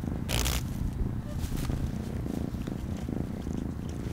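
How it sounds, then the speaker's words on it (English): A cat purrs up close in a steady, continuous rumble, with a few brief crackly rustles near the start and a voice talking now and then over it. "Oh, she is purring."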